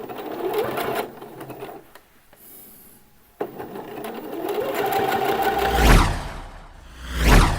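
A sewing machine zigzag stitches the shoulder seam of a T-shirt, running in steady bursts with a short pause in the middle and a faster, louder whir toward the end.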